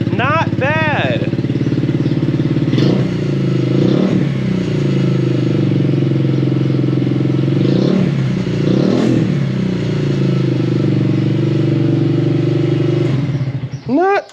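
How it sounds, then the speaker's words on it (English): A Honda Grom motorcycle with a new aftermarket exhaust idles loudly up close, with several sharp revs rising and falling over a steady rumbling engine note. "Well, we got a new exhaust on. I will go ahead and give you guys the sound clip."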